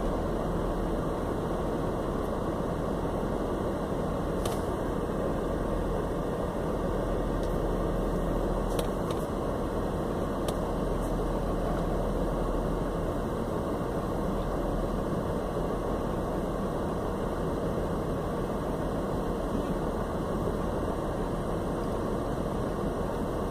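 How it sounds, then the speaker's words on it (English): Low, steady engine drone of a car with individual throttle bodies and a light flywheel idling at about 750 rpm, constant and unchanging for the whole stretch, with faint hum and occasional small clicks. "we're idling pretty stable at about 750"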